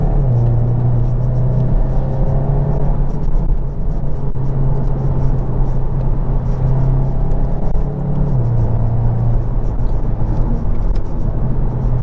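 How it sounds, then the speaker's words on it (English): A VW Golf GTI TCR hums along from inside the cabin, a loud continuous engine and exhaust drone that rises and falls gently in pitch with road rumble beneath it. "let's finally talk about the Golf GTI TCR's exhaust sound."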